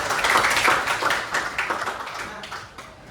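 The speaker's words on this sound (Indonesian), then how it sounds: "Beri dulu tepuk tangan." Students in a math class clap together in a brief burst of close, scattered clapping that gradually tapers off.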